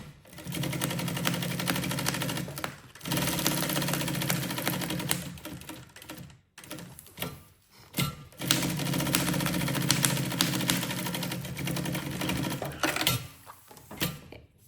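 A sewing machine stitching a lunch bag runs in long steady bursts of rapid mechanical clatter, close up, stopping briefly between runs before starting again.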